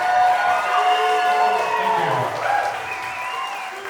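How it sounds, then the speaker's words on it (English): Applause and cheering break out for the father of the bride during wedding toasts, a dense, loud crowd sound with a few whoops that holds steady and then eases slightly toward the end. "can we please give a round of applause for Father of the Bride, Steve?"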